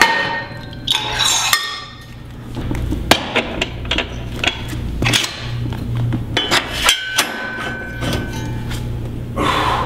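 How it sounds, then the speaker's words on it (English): Weight plates clank and clink while being changed on a Powertec Workbench Olympic bench in a gym, a series of sharp metallic knocks at irregular intervals with scraping and breathing between them. "But first, I need to change the weights around."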